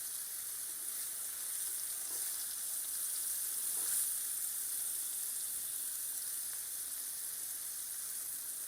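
Steaks sizzle and fry steadily in a hot pan, a continuous close hiss with no talk.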